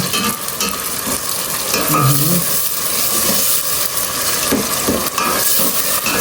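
Onions fry in a hot pan with a loud, steady sizzle and intermittent stirring scrapes, close and continuous throughout.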